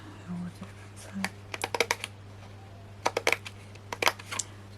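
Scissors trim around the edge of white card in quick bursts of crisp, close snips, with short pauses between the groups of cuts.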